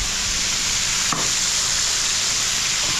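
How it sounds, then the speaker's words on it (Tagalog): Garlic and onion fry in a mix of butter and cooking oil, a loud, dense, continuous sizzle up close with one brief scrape of stirring partway through; nobody talks. "So, dito, nagpiprito na si Jepoy."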